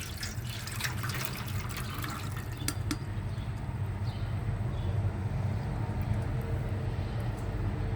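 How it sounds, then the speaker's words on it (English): Water soaked with orange peels drains and trickles steadily into a container, a continuous liquid pour with a low, rumbling fill sound and a few small drips and clicks near the start. "we need to drain out the water"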